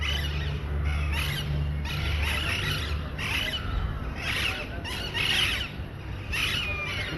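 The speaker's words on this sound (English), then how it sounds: "Parrots, they have a sweet voice." Parrots squawk and squeal in a rapid series of harsh, shrill bursts, fairly loud and close, with no talk over them.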